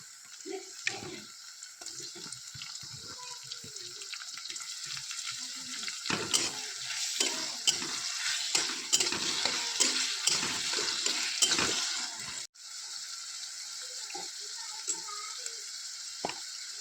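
Tomatoes added to a frying fish curry with salt and stirred in a pan, producing a continuous hissing sizzle with soft scraping and clinking of a spoon, close and steady, no talk.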